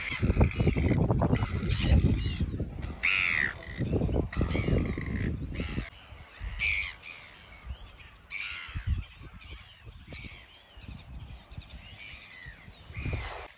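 Birds near Dunedin, on New Zealand's South Island, give loud, goose-like honks and harsh calls, repeated irregularly and close by, with a quieter stretch of scattered calls toward the end.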